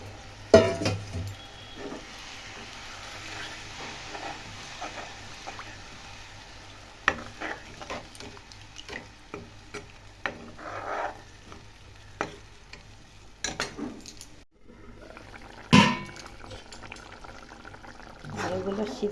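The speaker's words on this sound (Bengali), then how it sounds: "একটু জল ঢেলে দিই।" Water poured into a home cooking pot of potatoes, followed by a long stretch of hissing sizzle and bubbling boil, broken by occasional clinks and scrapes of stirring, moderately close.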